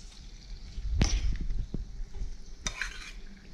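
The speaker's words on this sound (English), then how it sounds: "get that garlic in there. And we're gonna heat this up just a little bit, saute it just a little bit" Garlic, about four cloves, sautéing in butter in a pan while being stirred, with scraping and clinking of utensil against the pan over a steady low sizzle.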